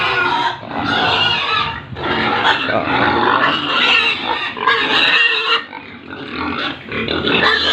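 Fattener pigs squeal and grunt loudly and continuously at feeding time in a pig pen, a dense, chaotic chorus with brief dips, no clear talk.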